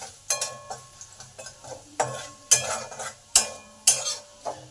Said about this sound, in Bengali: এবার রসুনটাকে একটু লাল লাল করে ভেজে নেব।